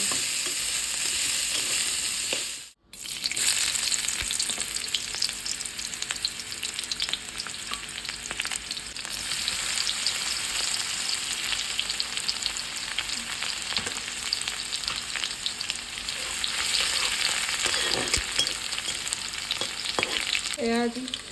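Dhekia fiddlehead fern greens frying and being stirred in a pan for an Assamese home lunch, with a steady close sizzle, a brief drop near the start and occasional scraping stirs.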